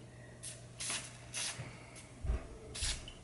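A spray can hisses in several short bursts, each lasting under half a second, with quiet gaps and light handling knocks between them, close up.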